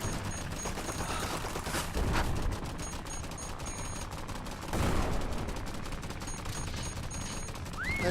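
Automatic gunfire from the VR shooter game Guns n Stories: Bulletproof rattles on continuously while the trigger is held down, a steady dense fusillade with a couple of louder surges.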